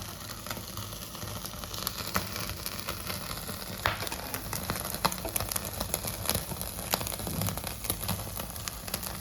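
Chicken tikka roasting on a griddle gives off a continuous crackling sizzle with scattered sharp pops, fairly quiet and steady, with no talking.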